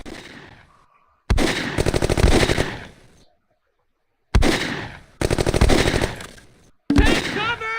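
Bursts of rapid automatic gunfire and rattling shots from the PC war game Close Combat, loud and close, arriving in several separate volleys with short silent gaps between them.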